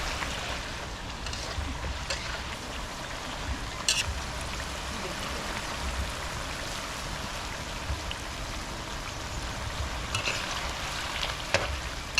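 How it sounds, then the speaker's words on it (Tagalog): Banana chips frying in hot oil in a pan, a dense continuous sizzle and crackle at close range with a few louder pops and stirring scrapes. "Initin na natin ang mantika. Umpisahan na natin pagluto ng crackers."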